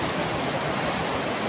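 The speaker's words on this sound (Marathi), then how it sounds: "वरनं धबधबा." Zenith waterfall at Khopoli roars as a loud, dense, unbroken rush of falling water heard up close, filling the whole short stretch without other sounds.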